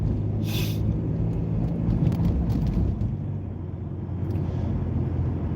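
A car pulls away gently, its engine giving a steady low rumble heard from inside the cabin, with a short hiss early on and a constant even drone throughout.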